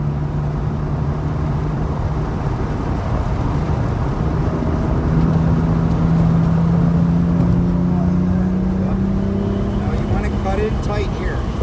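A car engine drones steadily on a race track, its tone climbing gradually as the driver carries speed through a corner, with a coach talking over it.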